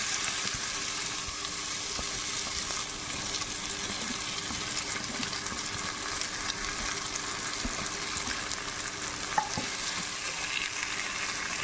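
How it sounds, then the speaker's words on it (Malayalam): Sliced plantain and raisins fry in ghee for a Kerala-style snack, making a constant soft sizzle with faint stirring throughout, fairly quiet and close, with a single small clink near the end. "അതിനുശേഷം നമ്മുടെ അരിഞ്ഞു വെച്ചേക്കുന്ന ഏത്തയ്ക്ക ഇതിലേക്കിടാം ഈ നെയ്ക്കകത്തിൽ"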